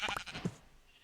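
A sheep in a video game gives a short, bright bleat, followed by a quieter lower bleat, then near silence.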